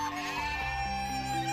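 A herd of goats passes by, letting out short, wavering bleats that overlap into a steady, close chorus lasting under two seconds, with no voices.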